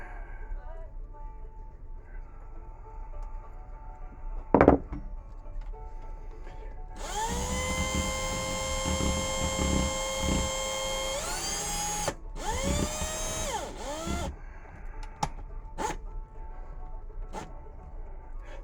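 A power drill twists coil wire for a staggered staple fused Clapton vaping coil, whirring in a steady high-pitched run with a few speed changes and short stops, close and moderately loud, with a person talking in the background.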